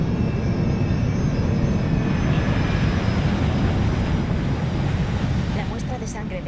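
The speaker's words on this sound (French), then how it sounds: "Oh non. Les avions." Airplanes roar overhead in the Resident Evil 6 video game, a loud, steady engine drone that fills the whole stretch and eases slightly near the end.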